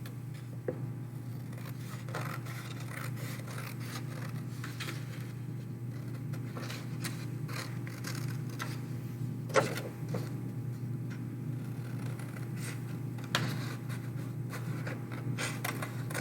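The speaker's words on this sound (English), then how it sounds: "now I'm going to cut those both out" Scissors snip out paper crayon shapes in a quiet room, a series of soft irregular cuts and rustles over a low steady hum, with a sharper snip or two standing out.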